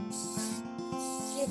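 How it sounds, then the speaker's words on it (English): Coconut cooking spray hisses onto baking trays in two short close bursts, with a steady faint hum underneath. "I have some coconut cooking spray here, so I'm just gonna use that to quickly"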